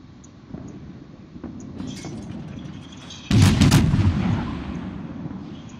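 Naval guns firing in the World of Warships video game, with a heavy booming salvo that erupts partway through after softer distant thuds, then a rumbling decay, loud and close.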